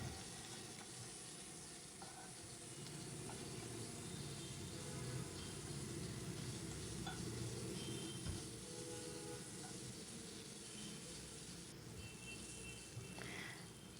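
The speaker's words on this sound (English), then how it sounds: "And now we will mix it." Soya keema with turmeric, red chili powder and salt is stirred in a hot pan, giving a faint, steady sizzle with soft scraping and occasional small clicks throughout.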